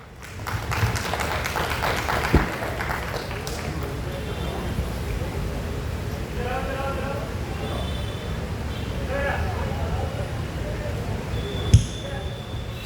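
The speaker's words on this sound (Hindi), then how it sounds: "जोरदार तालियों के साथ स्वागत करिए हम लोगों के आर्टिस्टों का" Audience applause welcoming dance performers at a college dance night, scattered clapping and crowd noise under loud amplified talk from the anchor, with a few sharp thumps along the way.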